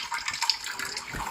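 Dirty water drains out of a Vaillant boiler heating system, a soft, steady trickling and splashing with faint gurgles, quiet and continuous with no voices.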